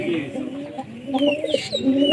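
Pigeons kept in a loft coo and murmur in a soft, steady low rumble, with a few higher bird calls and faint background talk mixed in.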